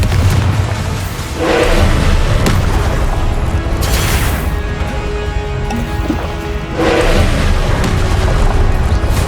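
Confringo fire spell blasts in the Hogwarts Legacy video game, loud booming explosions with bursts and rumbling combat noise, two heavy blasts standing out among the battle sounds.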